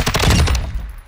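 A gunshot in the first-person shooter Hardcore Longshots: one loud, close burst with a quick crack, a few rapid overlapping reports, then a decaying tail that fades into near silence.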